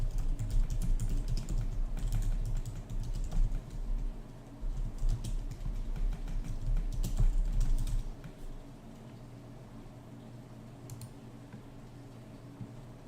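Rapid clattering keystrokes on a mechanical keyboard with loud blue switches, close and busy for about eight seconds before fading to sparse faint clicks over a low steady hum.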